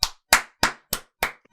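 Six sharp hand claps at an even, unhurried pace, close and distinct with silence between each, no talking.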